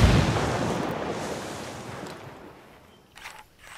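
A grenade explosion in a Ghost Recon Wildlands firefight near a corn field booms loud and broad, then its rumble decays over a few seconds and a fainter blast follows at the end.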